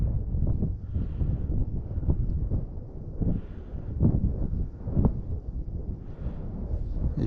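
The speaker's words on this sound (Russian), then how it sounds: "опять ветер поднимается" Wind gusts across a frozen lake during late-winter ice fishing, a continuous low blustery rumble buffeting the microphone, rising and falling in waves with no talking.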